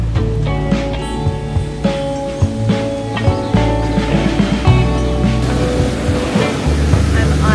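Ocean waves wash onto a beach in Madeira, Portugal, as a loud continuous surf roar with wind buffeting and a few sharp bumps, heard close by.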